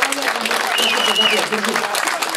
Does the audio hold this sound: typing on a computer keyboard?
no